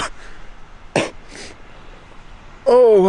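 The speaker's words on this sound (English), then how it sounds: "every cough is hell" Painful coughs from someone recovering from hernia surgery come as a few short, close, harsh bursts with a pause between, ending in a strained, pained vocal sound.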